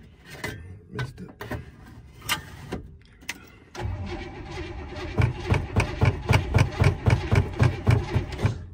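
A 1966 Chevrolet Impala wagon, a long-stored barn find, cranks in short uneven bursts, then catches at about four seconds and runs with a loud, steady, lumpy pulsing idle close by.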